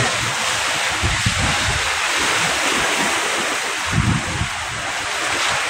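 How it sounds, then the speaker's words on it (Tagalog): Big waves and strong wind on Manila Bay, heard from a fishing boat: a steady broadband roar of surf and wind buffeting the microphone, with heavier low thumps of water striking the hull around the first and fourth seconds. "Tayo makapunta ron mga kapising, mababasa tayo ng alon."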